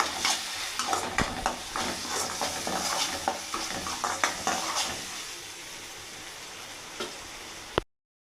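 Ginger garlic paste fries with onions in a pan for prawn curry, sizzling steadily while a spoon stirs and scrapes with repeated clinks, close and loud, then cutting off abruptly.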